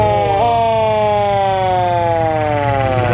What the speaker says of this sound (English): We got our police car suite coming out